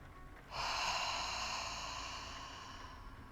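A single long breath, close and soft, rushing in and then easing off over a few seconds with a breathy, airy hiss in a quiet room.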